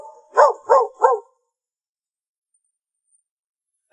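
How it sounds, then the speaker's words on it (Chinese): A dog lets out three quick, loud barks close by, evenly spaced, followed by several seconds of silence. "牵条狗过来"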